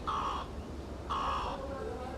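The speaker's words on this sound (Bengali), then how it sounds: "এই যে মুরগি দুইটা চিল্লাচ্ছে" Two chickens squawk in two loud, harsh bursts about a second apart, near and clear over a constant low background rumble, with no talk.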